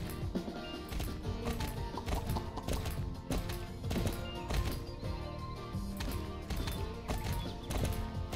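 Galloping horse hooves from a horse riding video game set around a riding club, a steady rhythmic clatter running the whole time beneath dense music and game sounds.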